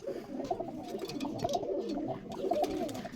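Madrasi pigeons in a loft cooing in soft, overlapping low burbles, several calls close by over a quiet background.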